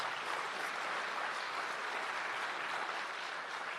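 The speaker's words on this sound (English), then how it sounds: "you have to give him a round of applause for that" Steady, dense applause from a crowd at a national AI lab signing ceremony in Jamaica, an even wash of clapping that holds at the same level throughout with no voices on top.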